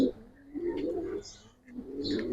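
A pigeon coos in soft, throaty repeated calls at close range, with faint background noise from a pigeon seller's stall.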